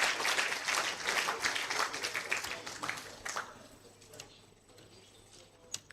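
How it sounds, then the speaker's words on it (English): Audience applause for a guest speaker at a university faculty dean's awards ceremony, a moderate burst of clapping that thins and fades over several seconds into a quieter room. "I think our guest speaker deserves a better applause."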